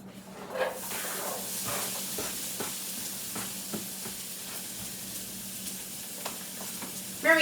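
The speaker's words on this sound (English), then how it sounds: "But first, I'm going to saute half an onion." Half an onion sautéing in a pan, a steady soft sizzle with occasional stirring scrapes and faint pops, close and fairly quiet with no talking.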